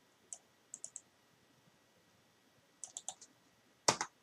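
Typing network router commands on a computer keyboard: a few quiet, sparse key clicks in small clusters, then a sharper, louder final keystroke.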